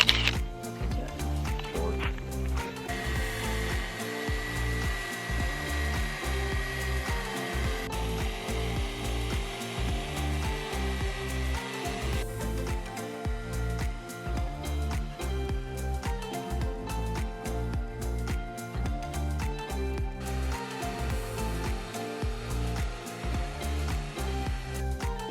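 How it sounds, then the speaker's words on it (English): Power sander working over the metal walls of a shipping container being prepped for paint, a steady continuous grinding whir with rhythmic pulsing texture running throughout, close and loud, with no talking. "got the bottom half of the container sanded, so Cody's gonna power wash it"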